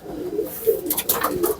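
Golden and Teddy Cross pigeons on a rooftop loft coo in repeated low, throaty phrases, close and clear, with faint higher chirps and rustling between them and no talking.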